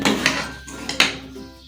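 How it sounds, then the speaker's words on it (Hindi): Farni, a milky rice pudding, is spooned from a metal pot into a serving dish, giving a few distinct clinks and scrapes of a ladle against the vessel, close and clear, with no talking. "चलें जी अभी हम डिश आउट कर लेते हैं।"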